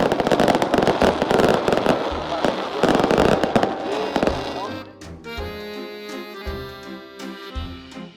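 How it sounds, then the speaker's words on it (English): Fireworks burst in rapid crackling volleys at the Le Mans 24 Hours race, loud and dense at first, then thinning into scattered pops over a lingering rumble. "Fireworks here."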